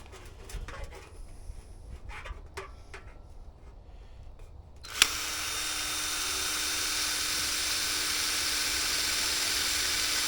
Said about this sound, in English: Got myself a drill.